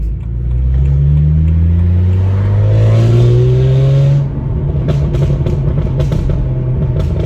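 A BMW 135i with an N54 engine and a faulty boost solenoid revs under load, rising in pitch over about four seconds before abruptly dropping to an uneven, stuttering rumble; loud and close from inside the car.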